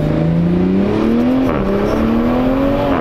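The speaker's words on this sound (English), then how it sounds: "Did you hear the turbos?" A new Toyota Supra's turbocharged engine pulls hard under acceleration, a loud, steady rising drone that climbs in pitch, dips briefly, then builds again for the full three seconds with no talking.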